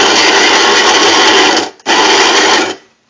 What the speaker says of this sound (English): So we're going to start by grinding the beans here.